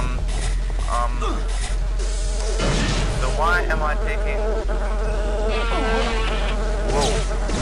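Robo Insect enemies in the Daikatana video game buzz and whine steadily over a constant low hum, with swooping tones and scattered mechanical clicks, while a voice talks over them.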